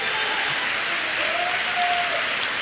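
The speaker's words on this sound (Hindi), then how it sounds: "आपके सम्मान में ताली बजनी चाहिए" An audience at a seminar in Punjab claps steadily, a dense, even wash of applause filling the hall from start to finish.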